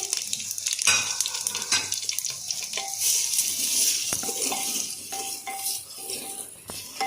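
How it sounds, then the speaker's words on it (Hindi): Sliced onions fry in hot oil, giving a steady bright sizzle broken by the scrape and clink of a spoon stirring against the pan. "तो अब मैं ये प्याज इसमें ऐड कर दूंगी। तेल हमारा गर्म हो चुका है,"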